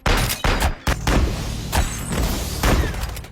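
Rapid bursts of loud gunfire from the film Underground crack out in quick succession, with repeated sharp shots and booming echoes across the whole stretch.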